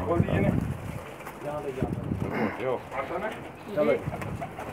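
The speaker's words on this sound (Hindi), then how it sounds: "ये थे शर्मीले कबूतर" Pigeons coo repeatedly in soft, throaty bursts nearby, with wind noise buffeting the microphone throughout.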